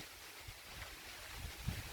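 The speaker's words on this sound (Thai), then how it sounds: "ตอนนี้มาทั้งฝนทั้งลมค่ะ" Strong wind and rain in a storm make a faint, steady rushing hiss with a few soft low bumps, with no one talking.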